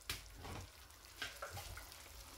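Vegetables and chicken sautéing in a pan, a soft, faint sizzle with a few stirring scrapes, close by and without talk.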